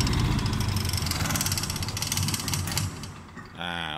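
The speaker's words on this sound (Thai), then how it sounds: "เดี๋ยวเราดับเครื่อง" A LUTIAN LT-D7 Silent diesel generator clatters and rattles at a constant level, then winds down and cuts off, after which someone speaks briefly.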